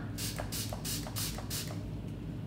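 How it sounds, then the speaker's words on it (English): Setting spray is misted onto a makeup brush in a series of about five quick, even hisses with a steady rhythm, close by, against a low background hum and no talk. "Sometimes you really just need to spray the brush."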